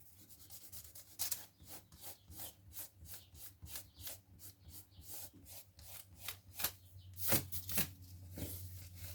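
Eraser rubbing out pencil lines on paper for a garden seat chair pattern, a rapid series of short scratchy back-and-forth strokes in quick rhythm, close and fairly quiet, with no talking.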